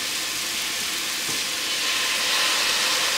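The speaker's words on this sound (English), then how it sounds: "We're gonna throw these steaks on here." Seasoned steaks searing in an oiled pan, a loud, close, continuous broadband sizzle that stays even and grows slightly stronger toward the end, with no speech.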